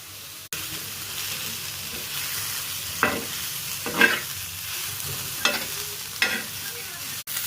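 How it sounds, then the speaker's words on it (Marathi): Ginger, garlic and onion frying in a little oil for a surmai fish curry, a soft steady sizzle broken by several sharp scrapes and stirs of a spoon in the pan, close and without speech. "आता आपण अद्रक, लसूण आणि कांद्याला भाजून घेऊया"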